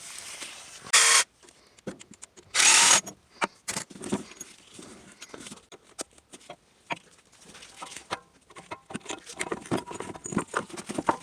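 A power tool zips off 13mm bolts on a 2012 Nissan Sentra during clutch replacement work: two short, loud bursts close by, followed by scattered clinks and handling noises.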